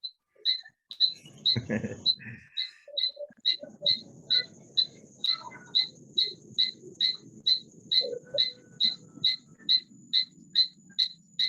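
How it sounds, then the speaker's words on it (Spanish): A cricket or small toad chirps in a steady, evenly spaced series of bright, sharp calls close by, repeating about twice a second, with a brief burst of low rustling and faint murmuring early on. "sapito o el grillo."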